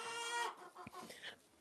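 Backyard chickens at corn feeding cluck softly up close, a short run of quiet clucks and low calls, with no talk over them.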